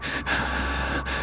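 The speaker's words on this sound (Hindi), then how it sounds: "मुझे अपने पीछे किसी की भारी सांसों की आवाज सुनाई दी।" Heavy, raspy breathing rises and falls behind a horror story's narration, a steady close hiss broken by two short pauses as each breath turns.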